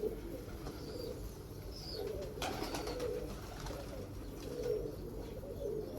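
A pigeon coos softly in repeated low phrases against a steady outdoor hum, with a few faint chirps.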